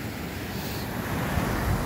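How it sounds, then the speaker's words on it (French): Strong wind blows outdoors beside a canal with locks on a cold day. It makes a steady, loud roaring rush that buffets the microphone, and no voices are heard. "Parce qu'il y a énormément de vent les amis."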